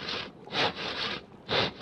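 In the video game Life is Feudal, a saw cuts wood in four rhythmic back-and-forth strokes, each a short rasping burst, with no talking.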